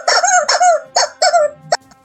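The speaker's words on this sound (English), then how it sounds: "Chicken noises? Do your thing." A rubber chicken toy squeezed repeatedly, giving four drawn-out squealing squawks followed by a short, sharp squeak, loud and close with brief pauses between.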